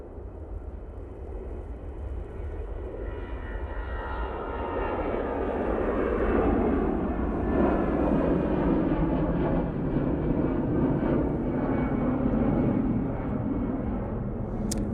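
Airliner engines roar steadily at Manchester Airport, building from a distant rumble to a loud sustained drone as a plane works along the runway, with no voices over it.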